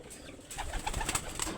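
Pigeons coo softly in a short burst of low, throaty calls, close by but faint, against light ambient background noise.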